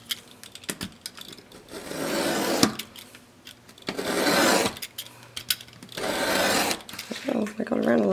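A wooden keepsake box panel being trimmed, with bursts of rasping, buzzing cutting that come and go between quieter handling knocks and scrapes, close by.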